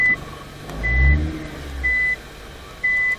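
A vehicle backs up with its reversing alarm sounding three evenly spaced, loud beeps over a low engine rumble that swells briefly.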